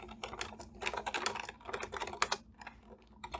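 Rapid clicking keystrokes on a computer keyboard while git commands are typed, in quick irregular bursts with a short pause before a few final taps, fairly close and moderately quiet.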